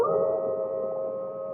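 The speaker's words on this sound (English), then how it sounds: "The howls were louder." Howling sound effect in a Halloween tale, a single sustained mournful howl holding a steady pitch, fairly close and alone without talk.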